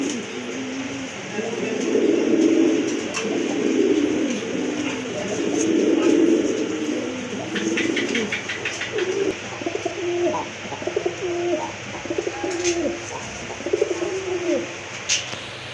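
Pigeons coo in soft, repeated low warbles, steady across the whole stretch, with a few brief higher chirps and light background noise.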